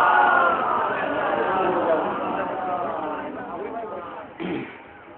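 A gathered crowd chants salawat in unison to welcome an arriving cleric at a Muharram procession in Lucknow, many voices blending into a loud, sustained chorus that slowly fades.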